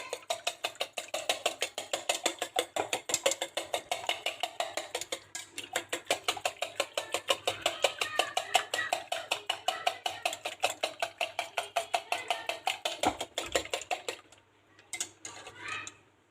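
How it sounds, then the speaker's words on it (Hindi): Two eggs being beaten in a bowl for a bread omelette sandwich, a fast, steady run of close, crisp clicks from the whisk against the bowl that continues for most of the time and then stops abruptly near the end. "ये देखें, यहाँ पे मैंने 2 अंडे दिए हैं। हम इसको अच्छी तरह बीट कर लेंगे।"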